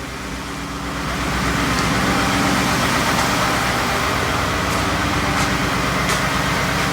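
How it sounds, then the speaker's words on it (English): A 2018 Ford F-150 with the 5.0L engine, which has a longer-than-normal crank time, turns over and catches, then settles into a loud, steady idle close by, with no talking. "just want to start it and see how it starts"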